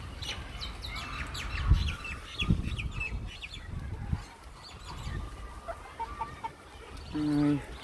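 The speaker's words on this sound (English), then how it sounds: "And the little chickens as well." Small chickens cluck and chirp softly in a muddy backyard after rain, with scattered calls, a few thumps, and a short run of repeated clucks near the end.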